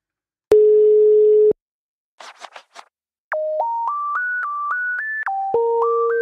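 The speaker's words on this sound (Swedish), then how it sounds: "Vi ringer Kristina" A phone call placed to a podcast guest: a steady one-second tone, a short burst of scratchy clicks, then a rising series of stepped electronic ringing or dialing tones, fairly loud and alone with no talk.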